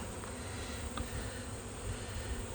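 Honey bees swarm around an opened hive with a single brood chamber, a dense, steady buzz that fills the air, near and continuous, with no voices.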